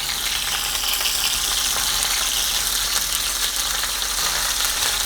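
Beef for Mongolian beef fries in a hot pan, giving off a steady, dense crackling sizzle with bright spitting pops throughout, close and fairly loud, with no voices over it.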